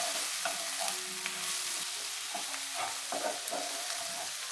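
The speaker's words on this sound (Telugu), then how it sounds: "ఇప్పుడు దీన్ని మనం ఒక 2 నిమిషాల పాటు కారం పచ్చివాసన పోయే వరకు వేయించుకోవాలండి" Amaranth greens are stir-fried with garlic and chili, giving a loud, continuous sizzle close at hand, with repeated scraping strokes of stirring through it.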